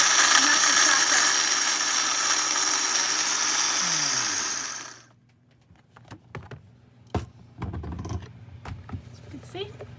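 A blender whirs loudly and steadily as it mixes vegan grated parmesan, then spins down and stops around the halfway point, followed by quiet handling clatter and knocks.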